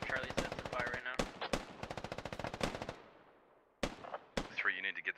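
Automatic weapons fire in the video game Squad Ops comes in rapid, close bursts, with loud single cracks between them and a fading tail after one burst.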